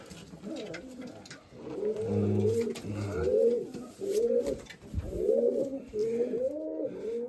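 Pigeons coo in repeated low, throaty phrases, close by and fairly loud, with soft rustling in the background.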